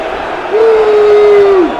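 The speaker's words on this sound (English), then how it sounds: "Crowd getting unhappy" Home supporters at a Millwall evening football match against QPR groan and jeer in a loud sustained roar, with a single drawn-out whistle or shout rising above the crowd noise.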